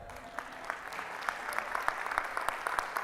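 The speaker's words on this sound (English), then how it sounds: "You guys can clap at that" An audience at a real estate mastermind event in Puerto Rico applauds, a soft, distant spatter of clapping hands across the room, steady and fairly faint for a few seconds.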